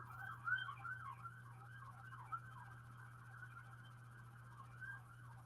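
An ambulance siren wails at a distance, faint and wavering through a steady low hum, rising and falling in repeated cycles without any nearby voices.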